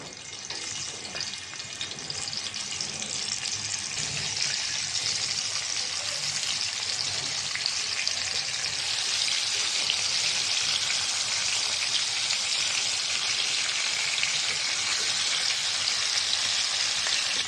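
Marinated chicken frying in hot oil makes a dense, continuous sizzle that swells quickly and holds steady and fairly loud, close up, with no voices.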